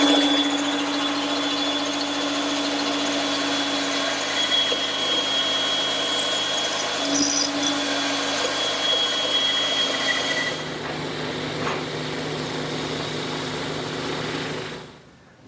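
Power saw cutting a notch and curve into a wooden garden bench piece, a continuous high whine at steady load that changes tone partway through and then winds down at the end.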